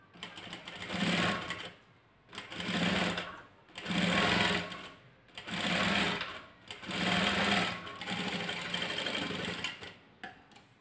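A domestic sewing machine stitches a strip for a blouse in five or six steady bursts, each a few seconds long with short pauses between, close and clear, with no voices over it.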